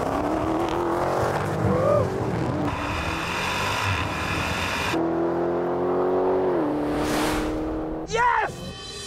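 A car accelerates hard enough to lift its front wheels, the engine roaring loud and close with rising revs and shifts, while voices and cheering come through over it.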